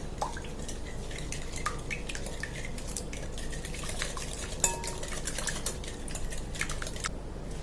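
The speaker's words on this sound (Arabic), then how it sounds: "هاد البيض والسنيده غادي نطربهم مزيان والزيت" Eggs, semolina and oil are beaten in a bowl with a utensil, producing quiet, steady clinking and scraping against the bowl with a few sharper taps, no talking.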